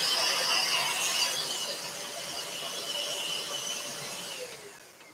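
Dust extractor runs during scroll sawing of a wooden lampshade, a steady airy whine with a high squealing edge that slowly fades toward the end, with no talking.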